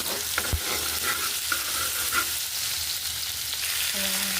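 Onion, garlic and tomato stir-frying in a pan, a dense continuous sizzle with occasional scrapes and taps of a utensil stirring, close up and steady throughout.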